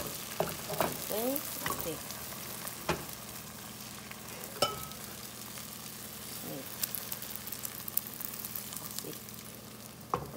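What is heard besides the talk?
frying and stirring beaten eggs in pot for Chinese fried rice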